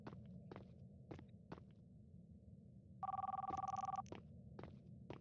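A phone rings in the Roblox horror game Midnight Movies, a single bright electronic ring burst lasting about a second, amid regular soft footsteps and low background rumble.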